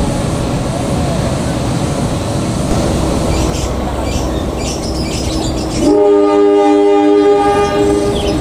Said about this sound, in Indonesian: Kereta api lokal Bandung Raya dan kereta api lokal Bandung Raya saling berpapasan di sini ya